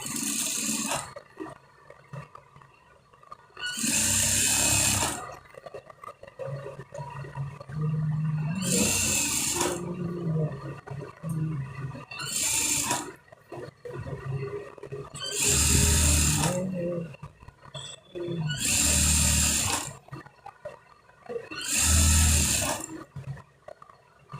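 A sewing machine top-stitching a kalidar panjabi kurta runs in several short, loud bursts separated by pauses, with a voice talking in the gaps between runs.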